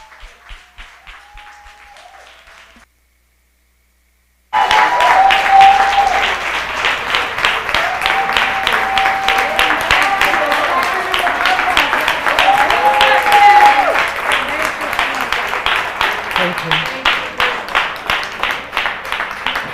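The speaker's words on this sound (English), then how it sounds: "giving a warm round of applause as we welcome our esteemed guest," A large audience bursts into loud, sustained applause welcoming guest Deion Francis at the Women of Excellence event, dense clapping filling the hall for about fifteen seconds after a brief quieter stretch and a pause.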